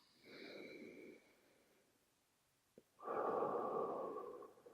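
Slow, relaxed breathing during a yoga session for the neck and shoulders: a soft inhale, a long pause, then a longer and louder exhale, close and quiet with no talking.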